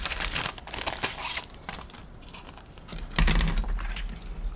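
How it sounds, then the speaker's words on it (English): A small plastic Ziploc bag of decals from a Zvezda 1/144 Boeing 757-200 airliner model kit being opened, with crisp crinkling and rustling in bursts, close and fairly loud, swelling again near the end. "let's open up this little Ziploc bag we have here"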